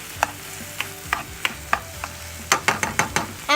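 Garlic in olive oil, cooked in a pan for Mexican rice, sizzles steadily up close while a utensil scrapes and stirs in about a dozen short knocks, quickening near the end.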